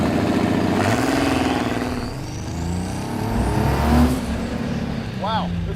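A 1971 Datsun 240Z with a swapped Chevy 4.3 V6 and a Ford diesel pickup turbocharger accelerates hard and loud, its engine roaring and surging with a whistling turbo note, over someone talking.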